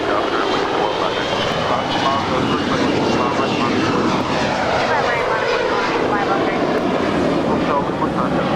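Spirit airliner taking off from runway 25 right at LAX, a loud, steady broadband jet roar that fills the whole span with a slow shifting rumble, heard alongside radio chatter.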